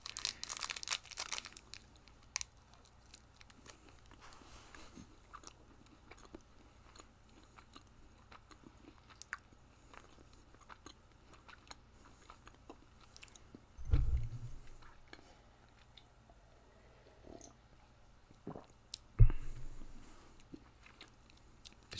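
An O. Henry candy bar is chewed close to the microphone in quiet, soft mouth sounds, with a few sharper bites or crunches standing out against near-silence.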